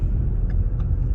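A Shelby GT350, fitted with a newly built engine and a McLeod RXT1200 clutch, gives a steady low, rumbling drone while driving, heard from inside the car with no talk.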